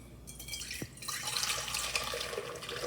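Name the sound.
pouring yeast and water mixture into a bowl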